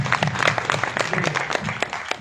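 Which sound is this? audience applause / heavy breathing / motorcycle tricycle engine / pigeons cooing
audience applause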